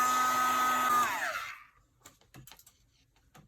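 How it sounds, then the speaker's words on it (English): A heat gun blows hard and steady on a printing plate used with die cut sponges, its whine falling away as it switches off after about a second and a half, followed by a few soft handling clicks and taps. "hit it with the heat gun real quick and make sure it's dry."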